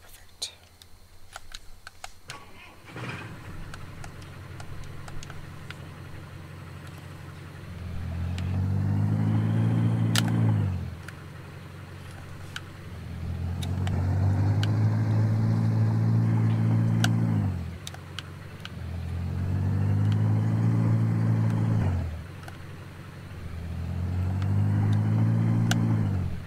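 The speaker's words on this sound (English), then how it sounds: "Let me go around and grab my truck real quick here." Truck engine in Farming Simulator 19 revs up in four repeated surges, each climbing in pitch then cutting back, over faint keyboard typing, with talking.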